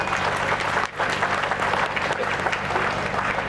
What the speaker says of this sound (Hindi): हम फादर के लिए जोरदार ताली बजाएंगे।